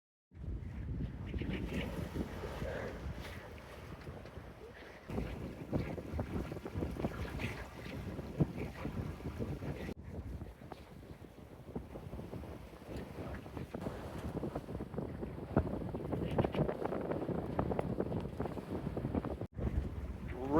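A sailboat moving fast on a reach at about 7 knots on open sea, with steady rushing water and heavy wind buffeting across the microphone and no voices.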